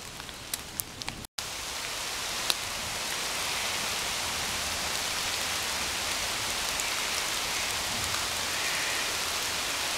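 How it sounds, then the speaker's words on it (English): Steady rain pours down on suburban bushland in a dense, even hiss, with a few sharper drips and taps standing out early on, close and continuous throughout. "Wait until the rain passes and then I'll head off."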